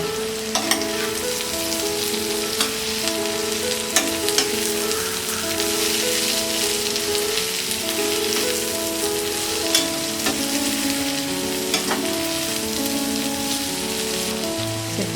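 Ivy gourd (tindora) fry with peanut, red chili powder and dry coconut powder is stirred in a hot pan, with a continuous steady sizzle and occasional soft scraping of the spoon.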